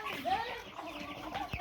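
Roosters kept at a rural home clucking and calling close by, short rising cries over a background of voices and activity.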